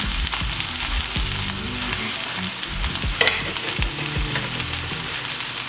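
Vegan ribs frying in a pan give a loud, continuous sizzle, close up, with repeated scraping and stirring strokes and a brief clatter midway.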